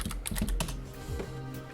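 Quick bursts of keystrokes on a computer keyboard at a desk, close and clear with an uneven rhythm of rapid taps that thin out toward the end, no voices.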